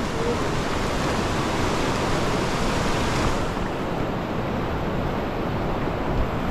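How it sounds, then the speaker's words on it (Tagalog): The strong current of the Anburayan River in Benguet rushes as a loud, unbroken roar of churning water, close and constant throughout. "Medyo malakas yung agos. Hindi lang medyo, malakas talaga."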